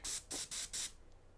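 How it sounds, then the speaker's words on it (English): An airbrush spraying out leftover thin purple paint, four short, sharp hissing bursts in quick succession and close by, then quiet. "I'm going to spray out what was left there"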